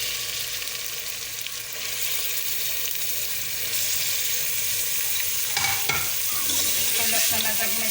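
Beef sizzles in a pan with garlic ginger paste for a lauki gosht curry: a continuous close, crackling fry with stirring scrapes, growing slightly louder and busier over time, no talk.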